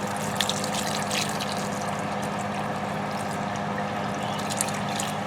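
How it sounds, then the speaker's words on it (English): Water being poured into a slime mixture, a steady running, trickling wash that continues evenly without a break at moderate level. "so we gotta add more water."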